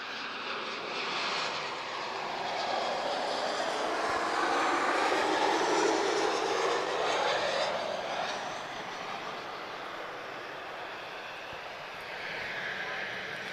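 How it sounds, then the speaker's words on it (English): An Embraer E190 long-range jet arrives at Lisbon Airport, its engines building into a broad rushing roar that swells, peaks mid-pass, then fades to a lower hum, heard from a distance outdoors. "Embraer E190 long range, arriving from Porto."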